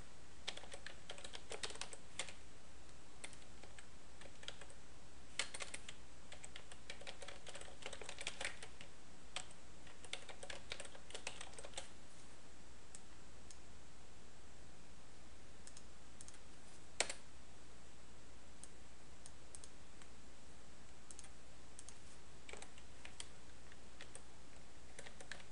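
Password being typed on a computer keyboard while setting up SQL Server 2008 Master Data Services, quiet keystrokes in irregular bursts over the first half, then sparse isolated clicks, with no talking.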